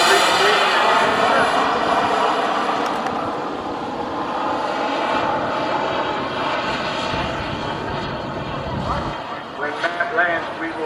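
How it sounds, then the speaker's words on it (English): A Carf Models Bolt turbine RC jet flies at an airshow, its loud, sustained turbine roar and whine filling the whole stretch and shifting slightly as it passes, with an announcer's voice running beneath it. "is very well designed and very well built, being expertly piloted out there by Matt Ballard."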